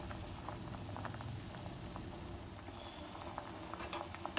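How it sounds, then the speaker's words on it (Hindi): A herbal kadha decoction, a home cough-and-cold remedy, simmers in a pot: a faint, steady bubbling patter of small pops continues throughout, with no talk. "जब ये काढ़ा उबलकर आधा रह जाएगा"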